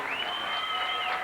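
Crowd at a 1993 girls' high school state swimming and diving final applauds a diver's tuck dive, a steady wash of clapping and cheering that holds through the moment with a faint whistle-like tone above it.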